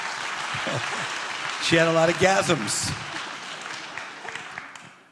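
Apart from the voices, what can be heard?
audience applause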